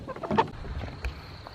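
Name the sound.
chickens in a coop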